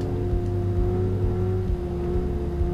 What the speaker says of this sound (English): I hear your engine